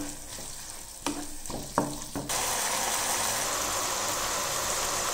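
Chicken frying with softened onion and tomato in a pan: a few sharp utensil knocks, then a loud, steady, close sizzle that continues to the end with no talking.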